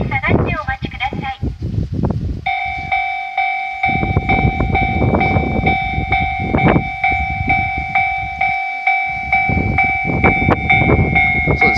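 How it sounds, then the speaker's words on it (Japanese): A train on the Muroran Main Line rumbles and clatters past close by at Koboro Station, a sustained, loud horn blaring over the rolling wheels, rhythmic bursts of clatter throughout. "どうやらなんか列車が来るようですんで、"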